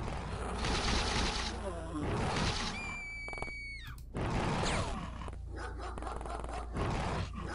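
A dog growls and barks in the X-COM Files video game, mixed with loud game effects and gunfire-like bursts, with a brief rising tone in the middle.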